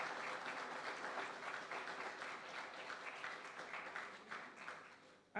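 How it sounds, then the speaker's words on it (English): Faint, distant applause from an audience at the 2017 GATFFEST film festival launch, a soft continuous patter of many hands that holds steady before a brief louder bump at the very end. "I want you all to give a round of applause to Lenny"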